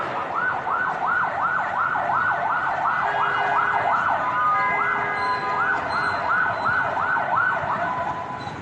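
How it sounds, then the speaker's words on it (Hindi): Wailing security forces vehicle sirens rise and fall in quick repeated sweeps during a terrorist attack at the Karachi stock exchange, loud and continuous over a constant background rumble. "सुरक्षा बलों की गाड़ियों के सायरन की आवाज तेजी के साथ सुनाई दे रही है।"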